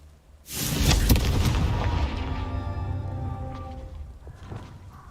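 A Confringo fire spell explodes in Hogwarts Legacy with a sudden deep boom that swells into a long rumbling roar, then slowly fades over several seconds with faint crackles trailing off.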